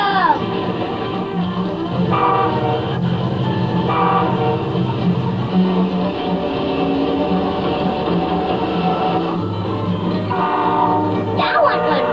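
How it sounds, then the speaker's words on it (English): Diesel locomotives rumbling past at speed, a loud steady roar of engines and rolling wagons with horn blasts sounding at intervals and a brief squeal near the end. "Let's watch some diesel locomotives run."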